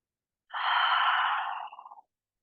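A single deep breath taken during a slow movement practice: one long, airy exhale lasting about a second and a half, close and clear, tapering into a few soft stuttering puffs before silence.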